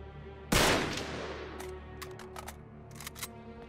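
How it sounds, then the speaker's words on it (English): A single loud gunshot fired at a lock in Uncharted 3: Drake's Deception, a sharp blast with a ringing decay, followed by several fainter clicks and clatters. "I'll shoot the lock"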